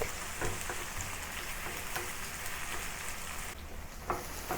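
Aromatic ingredients for a seasoned soy sauce for steamed fish sauté in a hot pan, making a continuous crackling sizzle with scattered sharper pops, close and fairly loud.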